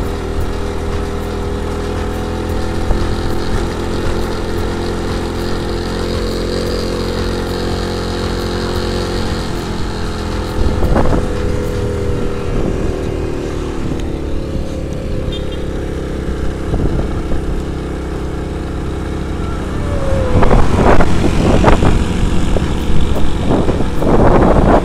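A 1997 Suzuki Shogun motorcycle engine drones steadily while climbing uphill in second gear, a loud continuous hum with bursts of wind and road noise growing stronger near the end.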